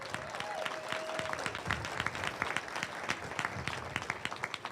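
Audience at a high school ribbon cutting ceremony applauds city council members, a steady wash of many hands clapping at moderate distance, with a brief tonal whistle-like sound near the start.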